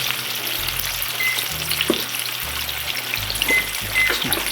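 Chicken pieces frying in hot oil for a copycat Chick-fil-A sandwich give a steady close sizzle, with a few soft clinks and stirring sounds over it.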